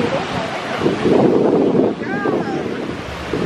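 Ocean surf rolls in at Panama City Beach, Florida: a steady broad wash of waves with heavy wind buffeting the microphone, swelling louder midway and holding throughout.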